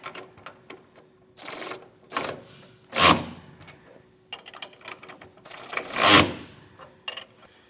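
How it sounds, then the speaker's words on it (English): Bracket bolts snugged down with a ratchet during installation of an underbed gooseneck hitch on a 2025 Chevrolet truck, with bursts of ratcheting and a few clanks of metal tools close by. "Now we'll snug down the bolts for our bracket that our carriage bolt goes through"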